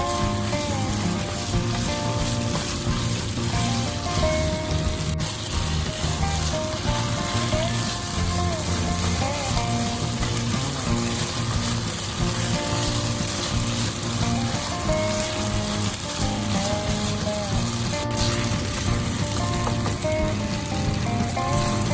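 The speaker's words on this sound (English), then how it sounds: "Add the marinated beef slices and stir fry on high heat until the beef changes its color" Marinated beef slices stir-frying over high heat in a pan, a steady dense sizzle and crackle with occasional stirring clatter, loud and continuous without any talking.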